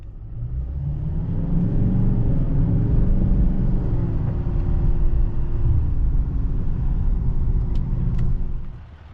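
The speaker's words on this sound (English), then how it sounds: "I got it on the highway here, and it does drive really nice." A rebuilt Denali Duramax truck cruises on the highway with a steady, loud, low engine and road rumble that holds for several seconds and then cuts off.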